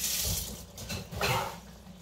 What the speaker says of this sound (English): Just give that a quick rinse.